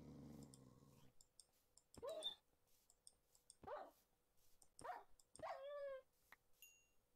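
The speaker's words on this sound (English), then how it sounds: "Angry dog." Angry dog in a video game, heard as several short growling, snarling bursts spaced a second or so apart, with a whimpering whine near the end, over faint clicks and a quiet game background.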